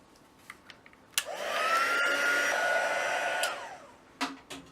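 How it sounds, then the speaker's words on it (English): A heat tool switches on with a click and blows a steady whooshing roar for about two seconds, heating embossing on a birthday card, then cuts off; soft handling taps come before and after. "I'll just bring out the heat tool,"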